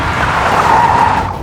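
A Toyota GR all-wheel-drive car drifts sideways under power, its tires giving a loud, sustained skidding squeal that holds steady for the whole moment.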